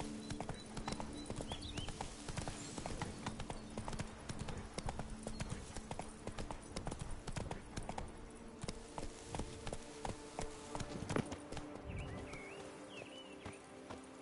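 Horse galloping in The Witcher 3: Blood and Wine, hooves clip-clopping in a quick, even rhythm across the whole stretch, moderately close, with faint ambient outdoor noise and insects beneath.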